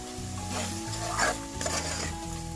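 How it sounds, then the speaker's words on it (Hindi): Spices for mutton korma with red chilli and turmeric powder roast in a pot, giving a steady loud sizzle with scraping stirs layered over it. "अच्छी तरह से भुनाई करनी है आपने।"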